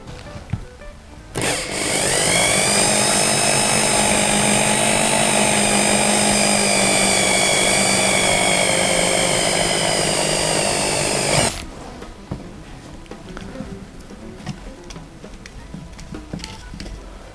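A power drill bores a 9 mm hole, running as one loud, steady, whining drone for about ten seconds before stopping abruptly, with faint shuffling noise before and after.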